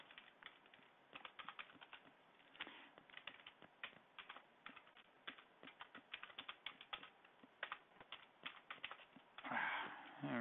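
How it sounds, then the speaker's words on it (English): Quick, uneven keystrokes clatter on a computer keyboard, close and fairly quiet, in bursts with short pauses over about ten seconds, ending in a brief rustle. "God, I just can't type today"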